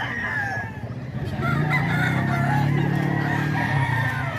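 A rooster crows nearby, a drawn-out loud call heard against a noisy outdoor scene during flooding in San Fernando, Pampanga, with faint voices in the background.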